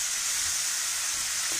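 Onions fry in a pan for an egg fry, giving a continuous, even sizzle with a bright hiss and no other sounds.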